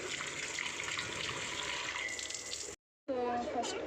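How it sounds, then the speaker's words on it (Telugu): Green chillies being rinsed under running water, a steady broadband splash and trickle that runs throughout before a brief cut, then resumes with clinking. "సో ఇలా వాష్ చేసుకోవాలి వాటర్ తోటి"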